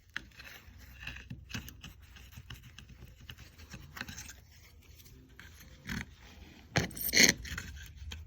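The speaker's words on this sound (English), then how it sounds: "cut and then scrape it out. Obviously try not to damage the aluminium." Old crimp being cut and scraped out of a wiring connector on a Mazda RX7 FC sunroof, with faint, scattered scratches and clicks and a couple of louder scrapes near the end.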